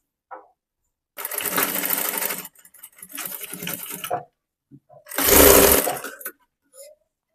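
A sewing machine runs double stitching on a boat neck princess cut blouse, three bursts of steady whirring with the longest and loudest last, separated by short pauses and small clicks.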